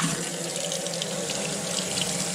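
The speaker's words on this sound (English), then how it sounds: "rinse my hands off." Hands rinsed under a running kitchen tap, a steady close hiss and splash of water into the sink, continuous and even with no voices.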